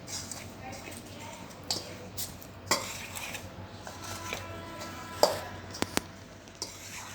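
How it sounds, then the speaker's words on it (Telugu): Mango pickle being mixed by hand with garlic cloves, soft squelching and stirring with occasional sharp clinks of a utensil against a dish, close and fairly quiet. "ఇలా బాగా మొత్తం కలిసేంత వరకు మిక్స్ చేయండి."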